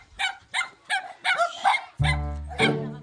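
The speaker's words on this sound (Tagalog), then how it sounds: "Oh, aso." Dogs bark outdoors in a short series of sharp yips and barks, followed by a sustained lower howl or whine, fairly close and moderately loud with no talk over it.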